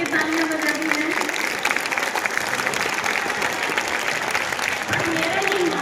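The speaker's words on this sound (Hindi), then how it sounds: "तो बादशाह के लिए तालियां बजा दी है।" Steady, loud applause from an audience at a school annual day celebration, continuous clapping filling the hall for several seconds with a voice faintly audible underneath.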